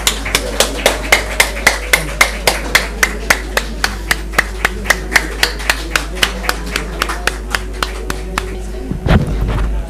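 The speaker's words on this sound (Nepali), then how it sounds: "जोरदार तालीले स्वागत गरिदिनु हुन हार्दिक अनुरोध गर्दछु" Applause from an audience welcoming the chief guest at an awards ceremony and book launch, a steady rhythmic clapping of many hands in unison, loud and close, lasting several seconds before fading into a brief shuffle.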